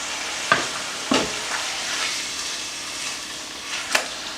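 A beef roast sears in hot oil in a crock pot, giving a continuous sizzling hiss broken by a few sharp clanks and scrapes of a utensil, heard up close.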